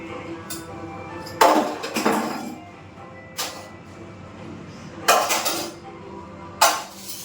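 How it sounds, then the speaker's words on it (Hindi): Dishes and utensils being washed in a home kitchen: several separate clattering clinks and knocks of pots, plates and cutlery, close by and moderately loud, spaced out over a quiet background with no talk. "बर्तन भी आधे से ज़्यादा मैं साफ़ कर चुकी हूँ"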